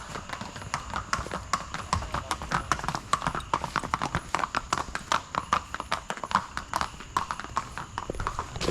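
Horse hooves clip-clop on a road near Lonavala in Maharashtra, a quick, even run of sharp knocks that holds a steady rhythm throughout at moderate distance.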